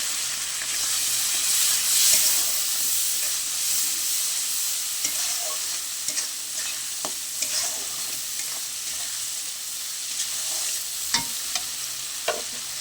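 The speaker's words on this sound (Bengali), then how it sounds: "অল্প একটু জল দেবো, দিয়ে মশলাটা আমি ভালো করে কষে নেব।" Spice paste with a splash of water being sautéed for a bhola fish curry, giving a steady broad sizzle and hiss with occasional stirring scrapes and soft pops, close and continuous with no voices.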